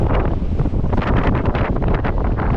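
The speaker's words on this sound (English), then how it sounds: "it's so windy" Strong wind buffets the microphone in heavy, gusting rumbles, loud and continuous with no voices, in rural Japan at Iwami Ginzan.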